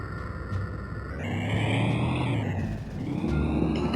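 Auto rickshaw engine in the Indian Bike Driving 3D video game, a steady whirring drone that rises in pitch as it speeds up, dips briefly, then climbs again, heard alone.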